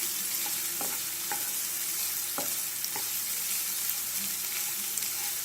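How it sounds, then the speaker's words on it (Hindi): Ginger garlic paste frying in a pan on a medium flame, a constant close sizzle with light scraping stirs and occasional soft taps of the spoon throughout. "अदरक लहसुन का पेस्ट डालेंगे और उसे 2 मिनट के लिए पकने देंगे अच्छे से"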